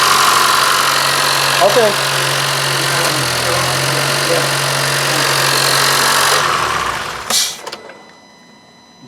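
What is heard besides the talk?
2015 Honda Fit engine starting with VTC issue noise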